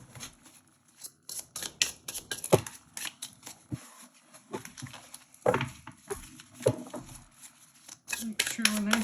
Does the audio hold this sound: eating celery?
no